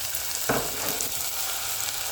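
Onion sizzles in about half a glass of oil in a casserole pot, a steady close hiss of frying with one brief louder crackle as it is stirred.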